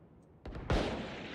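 A single gunshot cracks in a tactical shooter game, sharp and close, with a brief echoing tail after a softer click just before it.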